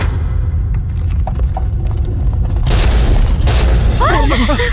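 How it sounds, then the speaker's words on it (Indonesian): A deep, heavy boom as a statue explodes, followed by a rumbling burst and crumbling debris, loud and close, with a voice crying out near the end. "Ada ledakan. Patungnya pecah."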